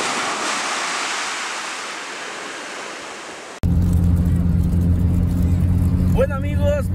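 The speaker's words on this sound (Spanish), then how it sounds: "Mejor los dejo con el sonido nocturno del mar." Night surf on the sea at Playa La Entrega, a steady broad wash of waves rolling in close and fairly loud, then cutting abruptly to other sounds partway through.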